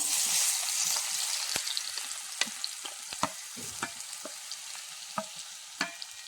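Chopped ripe plantain sautéing in ghee in a pan, a steady crackling sizzle broken by sharp clinks and scrapes of a spoon stirring against the pan.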